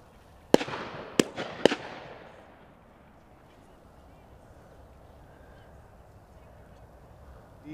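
Shotguns fired at a pheasant shoot on open hillside: three sharp, loud reports in quick succession early on, each ringing off into a fading echo, then quiet outdoor ambience.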